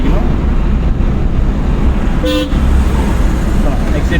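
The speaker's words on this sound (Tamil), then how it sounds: "ஹார்ன் அடிக்கணும்" A short car horn toot sounds once during a driving lesson, brief and fairly close, over steady road and engine noise with an instructor talking.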